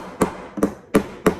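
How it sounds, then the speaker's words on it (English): Hammer tapping the tabs of a two-level clear acrylic display stand into place: four sharp, evenly spaced knocks, close and moderately loud, with no talking. "You want to take your hammer and tap slightly"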